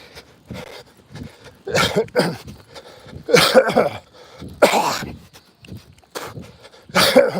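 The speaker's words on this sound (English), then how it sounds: "Obviously, I'm going to be coughing up a little stuff here." A man coughs up phlegm in the morning after exercising, with repeated harsh, wet coughs and throat clearing coming close to the mic in irregular bursts, separated by breathing and short pauses.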